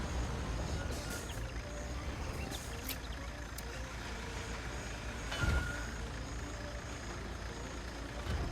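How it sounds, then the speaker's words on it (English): A concrete truck in the Construction Simulator video game reverses, sending out a faint run of reversing beeps over a low engine drone, with a short hiss partway through. "we need the concrete truck."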